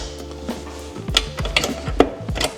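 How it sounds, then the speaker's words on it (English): Luggage rack mounting points being locked onto a motorcycle, a close series of sharp metallic clicks and clunks in an uneven rhythm with no voices. "you just want to lock those in"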